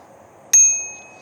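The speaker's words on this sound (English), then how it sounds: "Got a bell" A single bright ding from the handlebar bell of a Velowave Swift M e-bike, close and clear, its ring decaying over about half a second with a faint hum of room noise behind.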